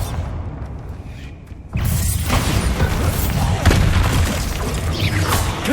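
A Bombarda spell explosion in Hogwarts Legacy, a sudden loud boom breaking in after a quieter stretch, followed by sustained crashing rumble and scattered debris-like impacts.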